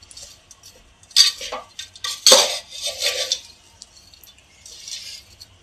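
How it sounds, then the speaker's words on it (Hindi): A laddu mixture is stirred and roasted in a pan, with a few sharp scraping and clinking strokes of a utensil against the metal between quieter pauses. "बस 5 मिनट इसे अच्छे से मिक्स करके हम इस तरह से भून लेंगे"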